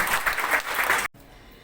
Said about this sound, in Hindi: तो जोरदार तालियां इनके लिए।